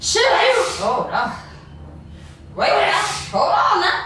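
A sharp sneeze bursts out amid excited talking, followed by gasps and more animated speech close to the mic.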